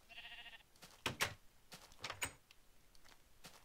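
A few short sheep bleats sound near and fairly quiet in a Minecraft-style farm game, with clicks between them.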